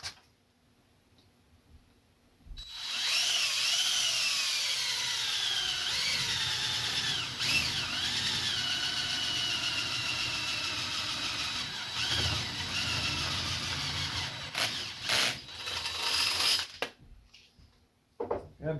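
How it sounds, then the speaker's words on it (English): A power drill bores through a metal teapot for a lamp project, starting after a quiet moment with a loud, steady whine that rises and wavers in pitch, then stutters and breaks off near the end. "You gotta be careful with drilling metal"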